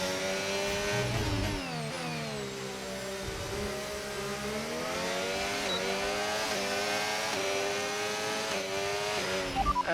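An F1 race car lapping the Circuit of the Americas in the F1 25 video game, its high-pitched engine wailing continuously and rising and falling through gear changes, with no talk over it.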